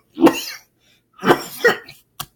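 A person coughs close up: one harsh cough, a pause, then a double cough and a brief short one after.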